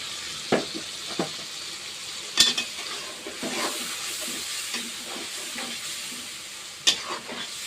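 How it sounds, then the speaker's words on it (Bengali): Prawns frying in a pan of spiced masala, with soft sizzling and scattered stirring scrapes and clinks of a utensil against the pan, fairly close, with no one talking. "মশলা কষানো হয়ে গেছে আমার চিংড়ি দিয়ে দিলাম"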